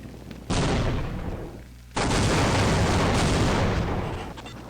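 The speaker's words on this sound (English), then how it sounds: "The chain reaction of those exploding crates will reveal this opening right here, in the floor." In the Opposing Force video game, stacked crates blow up in a chain reaction: a loud explosion, then a second, bigger blast that rumbles and slowly fades.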